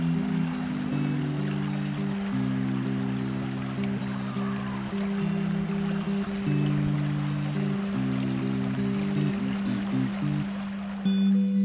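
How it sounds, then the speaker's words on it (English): Mill Creek, a beautiful winding stream, rushes with a steady broadband wash of flowing water throughout, partly masked by sustained low droning tones that hold and shift underneath, with no speech. "Mill Creek is the name of the beautiful winding stream which flows."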